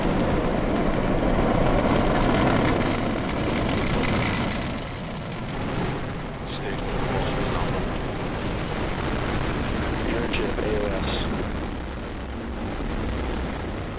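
A SpaceX Falcon rocket during the CRS-17 launch, a loud, broad roar of its engines rumbling continuously and swelling and easing in waves, with no speech over it.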